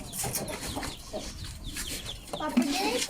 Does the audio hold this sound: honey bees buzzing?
no